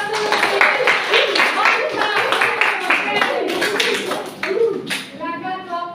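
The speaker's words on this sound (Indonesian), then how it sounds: "Kasih tepuk tangan dulu." Scattered hand clapping from a small group at a school presentation, uneven and brief, with voices talking over and between the claps.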